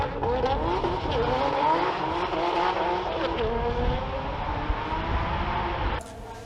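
Race cars, including a yellow Toyota MR2, pass on the TT Circuit Assen. Loud engines rev and rise in pitch as they accelerate, with some tire noise, before the sound drops away near the end.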